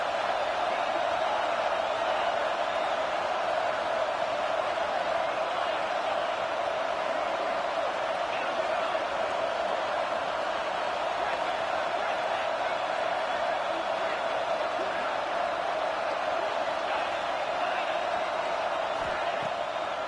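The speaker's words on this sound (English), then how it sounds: "This crowd bringing the energy and noise early." Dense, steady roar of a large football stadium crowd at a PSU vs SCAR game, continuous cheering noise throughout with no distinct pauses, broad and loud like distant massed voices.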